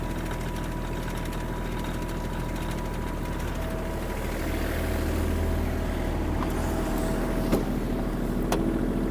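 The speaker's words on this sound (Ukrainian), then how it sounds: "Бачимо, кардан працює, ножі працюють." A Kubota KL-25 mini tractor engine runs steadily with its tiller working, a continuous close droning hum that grows slightly louder partway through, with a few faint clicks near the end.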